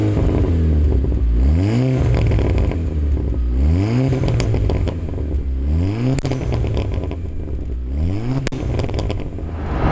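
VW Golf 6 R Stage 2+ with a full sport exhaust including downpipe and popcorn exhaust software revs repeatedly, its engine note rising and falling in four loud sweeps with crackles and pops between them.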